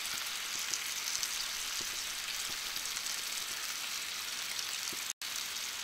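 Bacon coated in brown sugar sizzling as it cooks, a dense, steady crackling hiss with occasional small pops, close and continuous throughout, broken by a brief dropout near the end.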